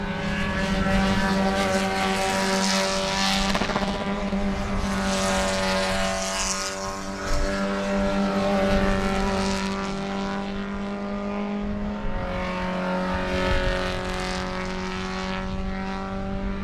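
Race cars at Sebring roar past on the track, engines droning and shifting pitch as several cars pass one after another, a loud continuous mechanical howl with no talk over it.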